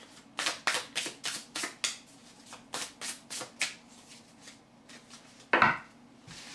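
Tarot cards shuffled by hand, a quick series of soft riffling bursts in an even rhythm, up close in a quiet room, ending with a sharper tap as the deck is squared.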